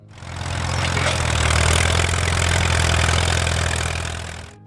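A vintage Allis-Chalmers WD tractor engine idles steadily, a loud, close, continuous low rumble that swells slightly and then fades.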